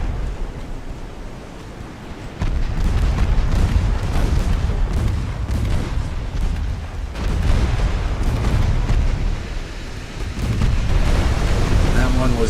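A torpedo striking a warship in Ultimate Admiral: Dreadnoughts, heard as heavy rumbling booms and surging sea noise that swell abruptly and stay loud, like explosions against crashing water.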